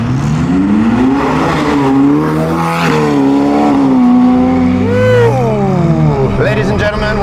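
Novitec-tuned Ferrari F8 N-Largo V8 revving and pulling through gears on Johannesburg streets, rising and falling engine tones heard from inside the car under continuous talking.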